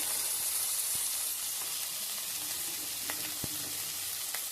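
Onion, tomato and coconut sautéing in a pan for a fish curry, a soft steady sizzle with occasional scrapes and taps of a spoon, fairly quiet and close, no talking.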